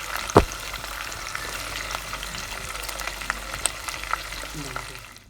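Fish frying in oil over low heat gives a steady, soft, close sizzle that runs the whole time, with one sharp knock near the start.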